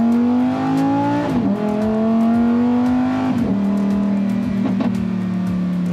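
Lamborghini engine revving loudly and close, rising in pitch in repeated pulls with brief drops between gear changes, rough and throaty throughout.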